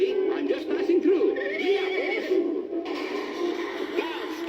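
Horse neighing on a 1974 Robin Hood story record, a white stallion bursting into a royal feast; whinnying calls rise and fall over voices and busy background commotion, fairly close and loud.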